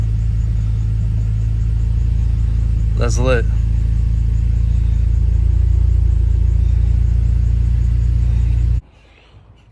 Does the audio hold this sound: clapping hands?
no